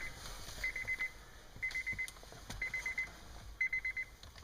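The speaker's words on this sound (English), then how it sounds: "Get rid of that beeping." A 2005 Honda Odyssey's warning chime beeps in quick, repeated bursts of short tones, fairly faint, with brief gaps and light handling noise between them.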